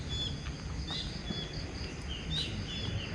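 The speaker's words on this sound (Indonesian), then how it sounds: "ada suara-suara burung yang seperti itu" Birds chirping and calling intermittently at an abandoned housing complex, faint thin tweets over a soft insect-like hiss and distant ambient hum, no voices.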